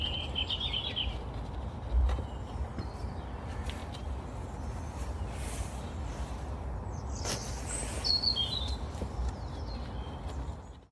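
Birdsong outdoors on a spring day in the UK: scattered high chirps and short twittering phrases come and go at moderate distance over a steady low background rumble, with no voices.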